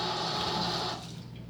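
A clean cloth is soaked under a running kitchen tap while rice rests. Steady water noise runs loud for about a second, then drops to a softer flow.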